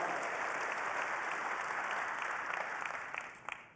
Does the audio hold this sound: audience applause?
yes